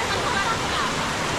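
Strong river waves rush in a steady, loud, broadband roar at a crossing point, filling the short stretch with constant churning water noise.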